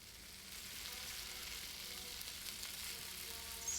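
Steak sizzles and fries in a pan in Cooking Simulator, a continuous, even crackle and hiss at low volume with no talking.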